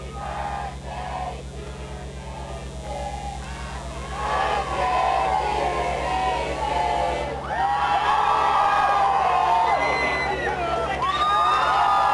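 Home crowd at a high school football game cheering and shouting for the homecoming court, a big roar that swells louder midway, with whoops and a steady low hum beneath.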